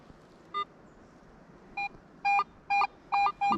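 Metal detector sounding off over a target in light beach sand at Lewes, Delaware: one short beep, then a run of five regular electronic tones, close and fairly loud, with no talk.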